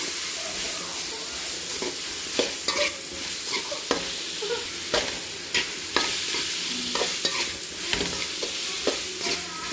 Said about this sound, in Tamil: மிளகாத்தூள் போட்டுக்கலாம், தனியாத்தூள் போட்டுக்கலாம், மஞ்சத்தூள் கொஞ்சம் போட்டுக்கலாம், தனி மிளகாய்த்தூள் போட்டுக்கலாம். எல்லாத்தையும் வதக்கிடலாம்.